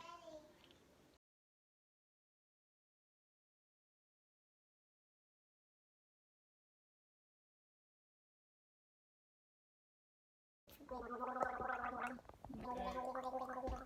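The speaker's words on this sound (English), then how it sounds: "stop gargling" A child gargles in two bursts, one short at the start and one longer toward the end, separated by a long stretch of silence.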